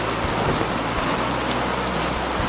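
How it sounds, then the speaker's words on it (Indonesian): Heavy rain pours steadily as a loud, dense hiss of drops on surfaces, continuous and unbroken, with no voices. "Masuk, masih kena hujan loh."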